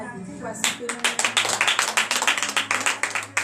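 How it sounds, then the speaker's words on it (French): A prayer gathering applauds Jesus during a Saturday morning prayer: after a brief voice, a small group breaks into loud, close, rhythmic clapping, individual claps distinct and evenly paced, with a low hum underneath. "je te demande maintenant d'applaudir très fort notre Seigneur Jésus"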